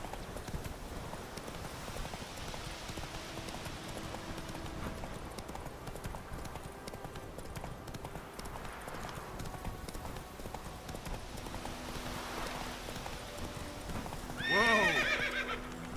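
A horse in The Witcher 3 video game, quiet rhythmic hoofbeats running steadily under a low ambient backdrop, with a brief whinny near the end.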